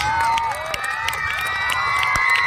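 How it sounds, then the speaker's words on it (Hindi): An audience at a school award ceremony cheers and applauds, a loud, dense crowd of shouting voices and children's cries with scattered claps running throughout. "सर के नाम आने पर काफी ताली बज रही है।"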